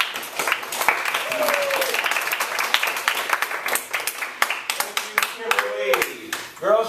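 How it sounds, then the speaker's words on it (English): Applause for a youth speaker in a classroom setting, a sustained patter of many hands clapping that thins into scattered claps, with voices cheering over the final seconds. "give me a round of applause."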